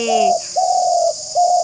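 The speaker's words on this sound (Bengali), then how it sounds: "ঘুঘু পাখির ডাক শুনতেছো?" A dove coos nearby in three clear, mellow notes, the middle one drawn out longest.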